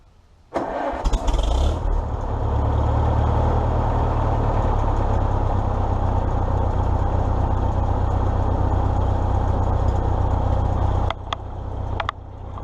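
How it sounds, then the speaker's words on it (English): A Farmall Super M tractor engine cranks briefly, catches and settles into a loud, steady idle that holds evenly for about ten seconds before a few small changes near the end. "So let's go ahead and start it up,"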